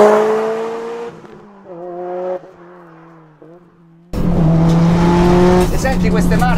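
A Subaru engine on a road climbs through its gears, each pull rising in pitch and then dropping as it shifts, before a loud, close surge of revving with tire noise, while someone talks in Italian over parts of it.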